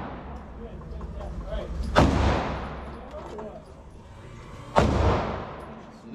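Two loud 1911 Range Officer pistol shots crack at an outdoor range about three seconds apart, each followed by a decaying echo over a steady background hum.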